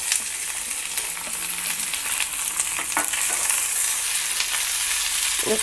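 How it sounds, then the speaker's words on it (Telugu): Onion pieces and cumin seeds fry in hot oil, producing a loud, dense, continuous crackling sizzle up close, with faint stirring scrapes underneath and no voices. "ఒక అర స్పూన్ జీలకర్ర వేసి వేయించుకోవాలి వేసి ఉల్లిపాయ ముక్కలు కూడా వేసి వేయించుకోవాలి"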